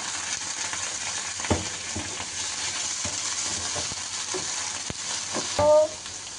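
Masala spices with a splash of water stir-frying in a pan, a steady soft sizzle under scraping spatula strokes, with a brief louder clatter near the end.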